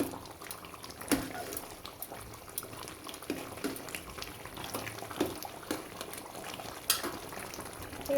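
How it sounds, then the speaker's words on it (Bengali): Duck meat curry bubbles in a pot as a spoon stirs through it, a low simmering hiss broken by occasional scrapes and knocks against the pot. "তো এখন আমি চলে আসলাম, নেড়ে চেড়ে দেবো"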